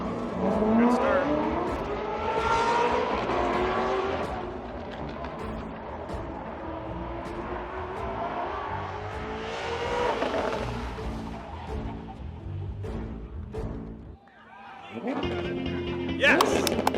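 Race cars at a green-flag start of an OUSCI speed-stop event, engines revving loudly and shifting through gears with tire noise, captured close from inside a car, with someone talking over the roar.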